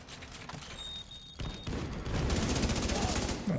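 Rapid gunfire against a boss in a video game, a dense, loud, continuous volley that builds over the clip amid game effects.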